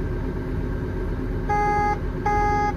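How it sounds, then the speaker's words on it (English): Two short electronic beeps from a DL420-7 CVT machine's height-control setting sound about a second apart over a steady engine rumble, the second slightly longer than the first. "hear the audible beep"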